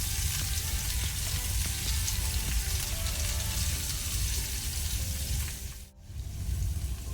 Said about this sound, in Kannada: ಸ್ವಲ್ಪ ಒಂದು 30 ಸೆಕೆಂಡ್ಸ್ ಫ್ರೈ ಮಾಡ್ಕೊಳ್ಳುವ ಮಸಾಲವನ್ನು.